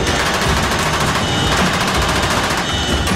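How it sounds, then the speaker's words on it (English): Door guns on Chinook helicopters firing on approach to a landing zone, loud continuous rapid bursts of automatic gunfire over heavy rotor and engine roar, close and sustained. "the Chinooks fire their guns as the landing zone approaches"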